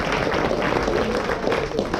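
A French TV show audience applauds a dancer and singer, dense steady clapping filling the whole moment at close, even loudness.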